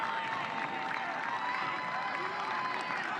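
A sellout crowd at a college soccer match between WVU and LMU applauds steadily in the distance, a continuous wash of clapping behind a commentator's voice.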